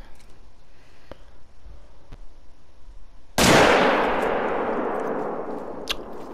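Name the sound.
rifle gunshot from a .300 Magnum while hunting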